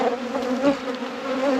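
Honeybees swarming up from an opened hive during an early-season deep inspection, a dense close buzzing with wavering pitch from many wings at once.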